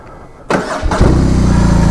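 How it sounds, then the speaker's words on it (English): A BMW R18 B motorcycle's boxer engine cranks over and fires with a loud sudden burst, then settles straight into a close, throbbing idle. "that's the boxer motor just giving it the start"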